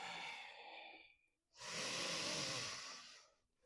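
Two long audible exhales during a yoga flow, each a broad airy rush, the second louder and sustained, separated by a brief quiet gap, close and without talk.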